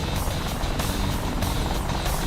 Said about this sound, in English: So we've got an Apache and a Huey here.